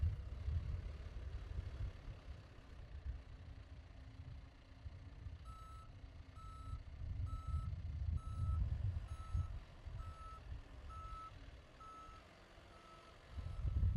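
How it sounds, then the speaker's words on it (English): John Deere L Series backhoe loader backup alarm sounding a steady series of evenly spaced high beeps over a low diesel engine rumble, moderately distant, with no talk. "The backup alarm alerts bystanders that your machine is changing directions"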